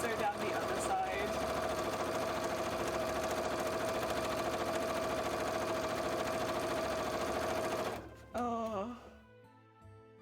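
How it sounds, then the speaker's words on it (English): A sewing machine runs steadily, stitching down the side of a cosplay leg piece for about eight seconds, then stops abruptly as a voice speaks briefly over quieter background sound. "Okay, swap that side again, and then we'll sew down the other side."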